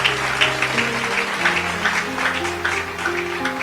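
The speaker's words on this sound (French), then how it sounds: "Acclame pour Jésus." A church congregation applauds for Jesus, a dense, steady clapping close by with musical tones sustained underneath.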